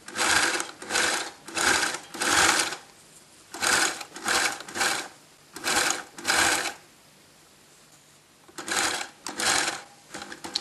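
Sewing machine stitching the seam of a knit tunic, close and steady, running in repeated bursts of rapid whirring separated by short pauses, with one longer stop before a final run.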